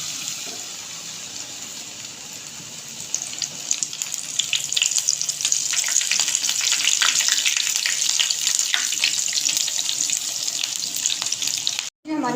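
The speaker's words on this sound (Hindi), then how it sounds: "इसी तरह हम बाकी के भी फ्राई कर लेंगे।" Palak sandwich pakoras deep-frying in hot oil, a steady bright sizzle that swells and thickens partway through and holds, with occasional bubbling and spatter, ending in a brief cut.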